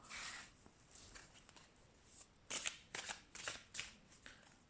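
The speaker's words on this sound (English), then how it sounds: "Let's shuffle some tarot cards to see the clearer picture." Tarot cards are shuffled close by, a soft riffling at first, then several sharp bursts of flicking cards in quick succession near the end.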